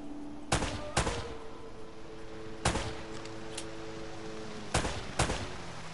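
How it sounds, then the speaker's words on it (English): Sharp gunshots ring out in Uncharted, fired in loose pairs and singles with pauses between, loud and close over a low ambient hum. "Less talking, more shooting!"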